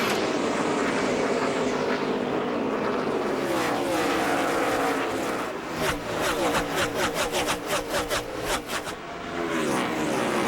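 NASCAR Busch Series stock cars at Dover roaring through a green-flag start, a dense rising and falling engine drone that swells into rapid loud pass-bys from close, with crowd and commentary faintly underneath.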